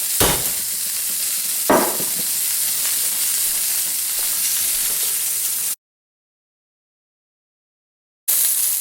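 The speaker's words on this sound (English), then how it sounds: "the last piece of pork is browning really nicely" Pork pieces brown in a hot pan with a loud, steady sizzle and a couple of scrapes near the start, then the sound cuts to silence before returning briefly; no talk.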